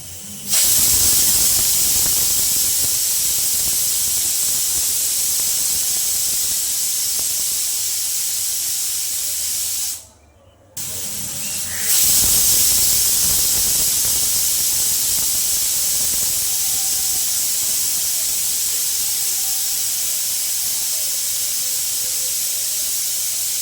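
A pressure cooker on a gas stove, cooking masoor dal with pui shak, gives off a long, loud, steady steam hiss close by. The hiss breaks off for about a second near the middle, then resumes.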